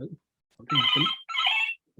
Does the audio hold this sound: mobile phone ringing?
yes